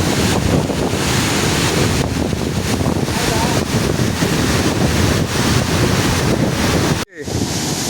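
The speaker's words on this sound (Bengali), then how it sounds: "একটা গেট খোলা রয়েছে, তাতেই যে জল এখান থেকে পড়ছে" Water pours through a single open dam gate at Mukutmonipur, a loud, steady roaring rush with wind buffeting the microphone throughout, broken by a brief sharp dropout near the end.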